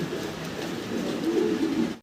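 A pair of black fancy pigeons coo close by, a low throaty rolling murmur that grows slightly stronger midway and continues to the end.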